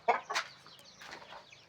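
Chickens clucking in a farmyard: two sharp, fairly close clucks at the start, followed by softer, scattered clucking that fades.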